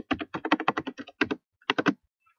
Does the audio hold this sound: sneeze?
no